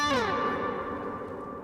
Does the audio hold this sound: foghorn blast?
no